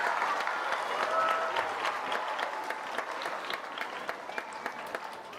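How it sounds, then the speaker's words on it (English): A school assembly audience claps steadily in a sustained round of applause that tapers slightly toward the end, with no one speaking over it. "Let's give them one more round of applause while they stand up with their certificates"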